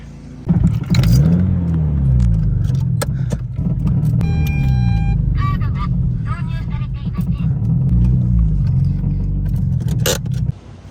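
Subaru BRZ with a blown FA20 engine driving, its engine rumbling steadily and loud throughout with rising revs and some jangling rattles.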